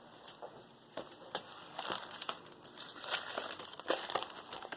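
A cereal box liner is crinkled and crumpled by hand at close range, giving a quiet run of irregular crackling bursts that build slightly louder toward the end.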